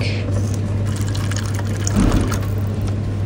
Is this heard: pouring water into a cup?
yes